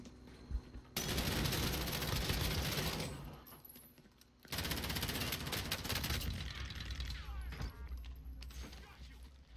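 Rapid automatic gunfire in Call of Duty: Warzone, with dense bursts of shots near and loud, a short pause, then another long sustained volley with scattered impacts.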